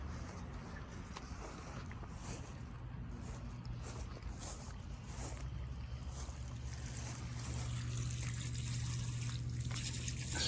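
Gray water drains fast from an opened valve through a 1-inch drain hose, a steady rushing, gurgling flow that stays constant and builds slightly louder toward the end, with no talking.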